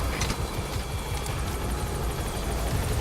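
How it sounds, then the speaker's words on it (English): Support helicopter in the video game Metal Gear Solid V, a steady loud rotor drone with rhythmic thudding blade chop and engine roar throughout, no voices. "Support helicopter requested."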